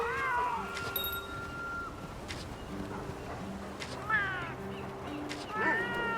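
A game cat in Monster Hunter Rise: Sunbreak lets out several short, bright meows over ambient game sounds and chimes, scattered across the span, with the clearest calls near the start and end.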